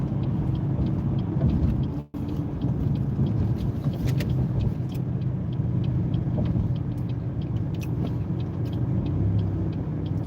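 A car driving along a road, a steady loud engine and tyre rumble from inside the vehicle, with a brief dropout near the start and faint small clicks and rattles throughout.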